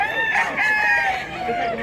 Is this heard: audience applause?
no